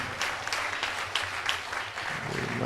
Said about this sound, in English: give him a rousing round of applause